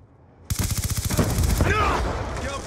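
Rapid burst of suppressed MP7 gunfire in a video game, a quick run of evenly spaced shots followed by a sustained dense stretch of firing, close and loud.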